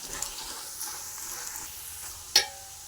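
Roasted gram and Byadgi chillies fry in a pan with a soft, low sizzle and a few faint stirring scrapes. A sharp clink from the spoon or pan rises near the end, and no one speaks.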